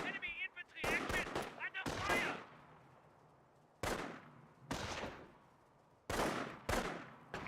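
Gunfire crackles across a Company of Heroes 1 battle. Sharp bursts of machine-gun and rifle fire come in separated clusters at moderate volume, with quieter gaps between them.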